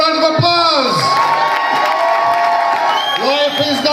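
A pageant audience roars with cheering, whooping and shouting, loud and sustained throughout, with voices rising and sliding in pitch over a dense crowd wash.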